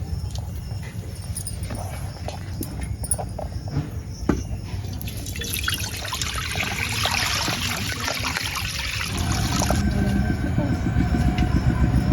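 Roughly three litres of water pours steadily into a pot for making boondi, a continuous splashing stream that grows fuller and louder toward the end amid background kitchen clatter, with no talking.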